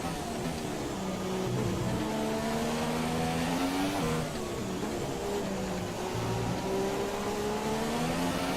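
A Formula 1 car engine in the F1 2017 racing game at Silverstone drones steadily and loudly, its pitch climbing through the gears with brief dips at shifts and no talk over it.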